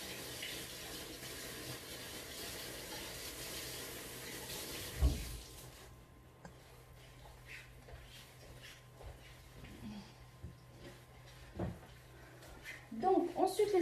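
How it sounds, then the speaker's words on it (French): Hands are rinsed under a running kitchen tap while making kalb el louz. The water gives a steady, moderate hiss that stops after about five seconds, followed by quieter handling sounds and a few clicks. "Je les passe sous l'eau."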